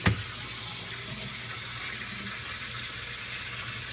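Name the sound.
tap water running to soak air conditioner pads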